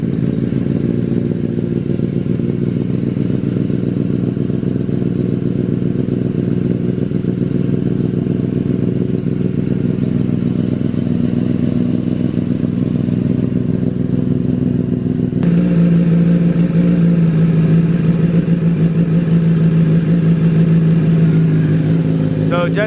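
A 2024 Kawasaki ZX-10R engine with an M4 slip-on exhaust starts and runs loudly nearby, a steady throbbing idle that shifts to a higher, tighter drone partway through, with faint clattering underneath.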